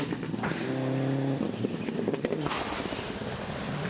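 A rally car races at full throttle during a rally stage, its engine roaring loud and close with shifting, rising harmonics and gravelly road noise underneath.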